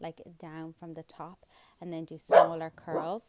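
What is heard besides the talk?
dog barking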